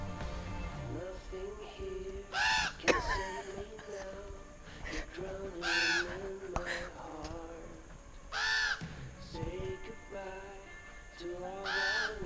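A crow caws repeatedly on a hike at West Fork, four harsh calls spaced a few seconds apart, fairly near, heard over a steady background hum.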